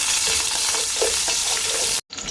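Ginger sautés in a pan for chicken sinigang with a loud, close, continuous sizzle and scraping stirs. It cuts off abruptly near the end, then briefly resumes.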